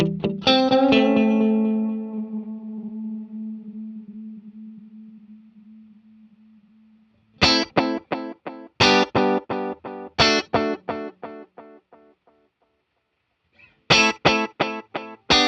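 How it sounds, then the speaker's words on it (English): Guitar run through a Boss DD-20 set to tape delay with one head at 240 ms: a ringing sustained note, then rapid choppy bursts of notes, each trailed by distinct repeating echoes that fade out, with no talk. "This is what the straight up tape delay sounds like with, what is that, 240 milliseconds of delay?"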